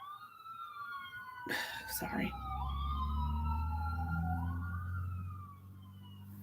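An ambulance siren wails, sweeping up and down steadily, fairly close and loud, with a brief spoken word and rustling early on.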